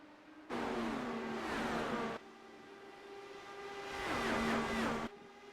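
Race cars on a track during a broadcast race, two loud bursts of engines roaring past close by with rising and falling pitch, separated by a quieter stretch of distant engine drone.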